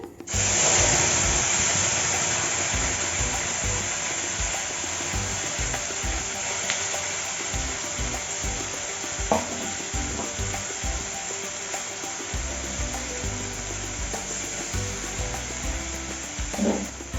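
A spice paste for potol kofta kalia hits hot oil in a pan with a loud, close hiss and sizzle that flares at first, then settles into steady frying with occasional stirring scrapes.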